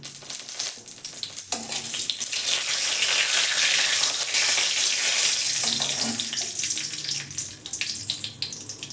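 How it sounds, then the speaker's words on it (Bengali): Dried chilli, bay leaf and panch phoron fry in hot mustard oil in a kadai, a steady, bright sizzle that swells and holds loud and close for several seconds, with a few soft clinks at the start. "কড়াতে আমি সর্ষের তেল দিয়েছি তাতে একটা শুকনো লঙ্কা তেজপাতা এবং পাঁচ ফোড়ন দিয়েছি"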